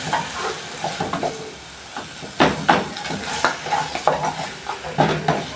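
Beef and smashed tomatoes are stirred in a pot, making repeated scraping and knocking strokes over a low sizzle. The strokes come in an uneven rhythm, close and fairly loud, with no speech.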